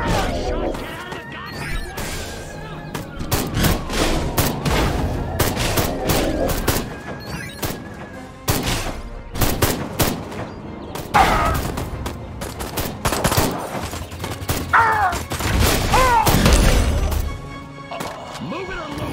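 Gunfire in Destroy All Humans erupts in irregular bursts and sharp cracks amid crashing impacts, loud and chaotic throughout, with a voice talking over the shooting.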